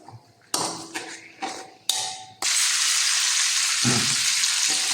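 Curry leaves dropped into hot oil start a sudden loud, steady sizzle and crackle after a few clattering knocks of utensils, staying close and continuous to the end.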